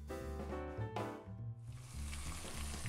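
Pancit canton sauce with shrimp simmers and reduces in a pan, giving a steady close sizzle and bubbling frying sound that runs continuously with no talk.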